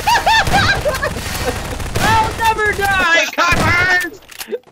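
Rapid gunfire in a Garry's Mod Prop Hunt match, cracking through loud overlapping shouts and excited talk, with bursts continuing across the clip.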